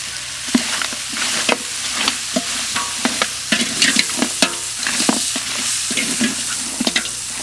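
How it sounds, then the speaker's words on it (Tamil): Goat head curry with cumin masala sizzles in a pan while a spoon stirs and scrapes it in irregular clanks and taps, close and steady, with no voices. "இது கூட சீரக மசாலாவையும் சேர்த்து நல்லா வணக்கிக்கலாம்."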